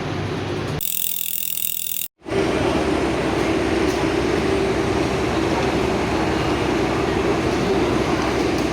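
A continuous loud rumble and hiss from inside a moving passenger train in Indonesia, with a faint steady hum. Near the start a brief bright burst of noise cuts off abruptly and is followed by a moment of silence. No one speaks.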